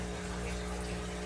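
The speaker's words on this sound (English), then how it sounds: "let the pump put it back in" An aquarium pump pushing water back into a fish tank from a tote, a steady low motor hum with tonal whine and a faint watery wash underneath.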